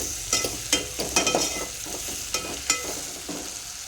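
Ingredients for egg curry frying and being stirred in a pan, a steady sizzle broken by repeated short scraping clacks of a spoon against the pan, close and alone with no talk.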